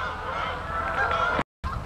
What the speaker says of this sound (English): we're back to where all the geese are anyway